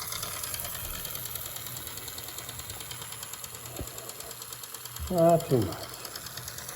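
A Santa Fe mini M gauge plastic toy train whirs along its track after its axles are oiled, a steady mechanical buzz with a couple of louder clunks near the end, while someone speaks briefly over it.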